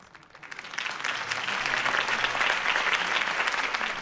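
Crowd applause at a political rally in Batman: The Telltale Series, swelling up from quiet into a sustained, roaring wash of many hands clapping that holds steady to the end.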